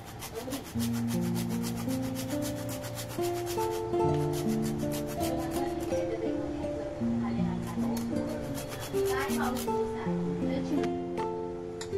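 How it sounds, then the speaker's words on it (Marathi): Nutmeg is grated into sweet puran filling, a quick repetitive rasping rub heard under steady background music and a voice. "आपण यांना किस जायफळ टाकूया"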